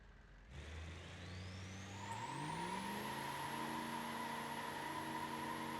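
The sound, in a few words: Gavril D-Series truck driving in BeamNG.drive video game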